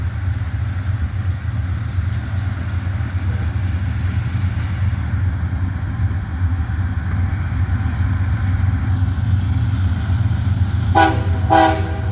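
A heavy freight train rumbles steadily nearby through Abbeville, and near the end its horn sounds in a short loud blast over the rolling noise.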